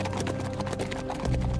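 Horses ridden by fleeing Shaolin monks gallop in a quick, rhythmic clatter of hooves, close and steady over a low rumble of background music.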